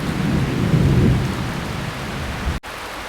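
Heavy rain pours steadily along a rail corridor north of Bukit Panjang in Singapore, with a low rumble of thunder rolling beneath the close, dense hiss before a brief cut near the end.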